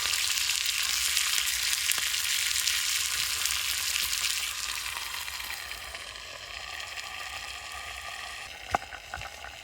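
Burgers frying in a pan on a camp stove give a steady, close, loud sizzling hiss that barely changes, with one brief tap near the end.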